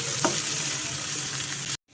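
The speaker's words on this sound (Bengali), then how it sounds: "এবার পেঁয়াজগুলোকে ভালোভাবে একটুখানি ভাজা ভাজা করে নিতে হবে।" Onions fry in a pan with a close, even sizzle and a quick stir near the start, running on steadily until it cuts off abruptly to silence.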